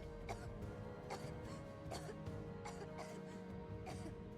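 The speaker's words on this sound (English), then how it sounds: "you can hear Tifa coughing" Tifa coughing from thick Mako gas in Final Fantasy VII Rebirth, a series of faint, short coughs repeating about every half second to second under a low, steady game drone.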